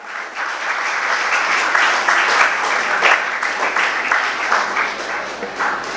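An audience at a stage felicitation ceremony claps loudly and steadily, a dense, close wash of many hands that holds for several seconds with no voices.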